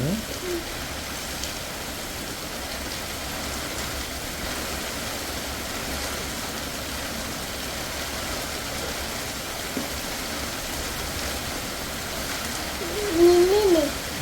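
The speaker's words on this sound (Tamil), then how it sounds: "மழை" Heavy rain falls during a record cloudburst, a steady, dense hiss that holds evenly throughout with a low rumbling undertone and a brief louder patch near the end.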